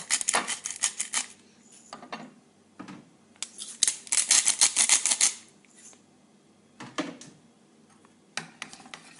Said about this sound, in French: je coupe mon jambon blanc et mes tomates en petits morceaux